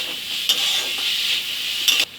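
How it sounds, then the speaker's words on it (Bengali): Mixed vegetables for a dry suji upma frying gently on a low flame in a pan, a steady soft sizzle with two brief scraping stirs, close and continuous with no talk. "এগুলো কিন্তু একদম সিমে করে আমি ভাজবো।"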